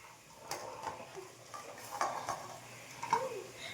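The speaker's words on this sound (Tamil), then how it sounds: "வெஜ்ஜீஸ் எல்லாம் ஆட் பண்ணி நம்ம வந்து இதை வந்து வதக்கிக்கலாம்" Chopped vegetables stir-fried with softened tomato and onion for sambar rice, heard as quiet intermittent spoon scrapes and clinks against the pan with a faint sizzle, no talking.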